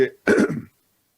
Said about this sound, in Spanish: disculpen, estoy medio con tos